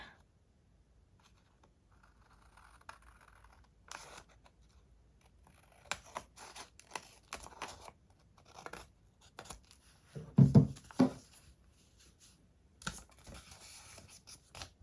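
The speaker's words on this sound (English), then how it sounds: "I'm gonna trim off this overhang" Scissors trimming the overhanging edge of vellum paper, with faint, crisp, scattered snips and rustles in a quiet room and a louder cluster of cuts around the middle.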